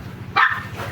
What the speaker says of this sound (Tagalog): May tahol-tahol na isang aso.